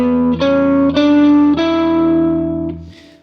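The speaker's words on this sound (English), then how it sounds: "playing that melodic minor scale starting from an E root" A distorted electric guitar plays a short run of sustained notes from a melodic minor scale over an E root, each ringing with effects and reverb before fading out near the end.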